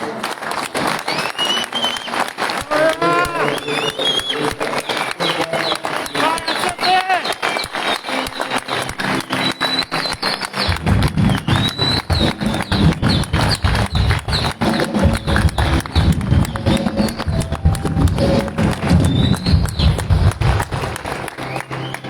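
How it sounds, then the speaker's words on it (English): A crowd standing and applauding at a memorial service, steady dense clapping that runs throughout and grows fuller and heavier partway through, with a voice speaking over it. "ask for 15 seconds for everyone to stand up and just applaud for what he"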